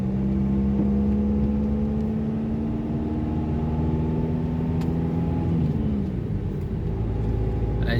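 A biomass transport truck creeps along a snowy road, its engine rumbling low and steady with a sustained droning tone that shifts pitch downward partway through, heard from nearby.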